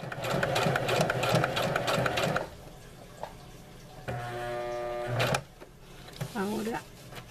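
A sewing machine stitching cloth sanitary pads runs in rapid rhythmic bursts up close, stopping and restarting with pauses, a short whirring run near the end, and a voice speaking between and over the stitching.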